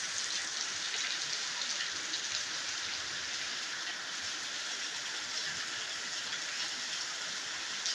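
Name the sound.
heavy rain falling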